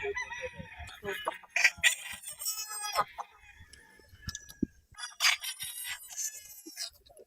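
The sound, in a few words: Sweater Boston stag roosters crowing and clucking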